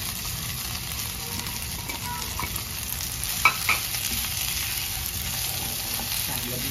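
Boiled potato frying in oil for an Indian fasting-day potato dish, with a steady loud sizzle, a few scraping stirs against the pan and a faint voice in the background.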